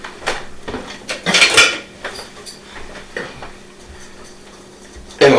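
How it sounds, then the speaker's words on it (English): Spoon or whisk clinking and scraping against a mixing bowl while stirring dry soda bread ingredients such as baking soda and sugar, with irregular clattering bursts and a sharp knock at the end. "let's mix these together"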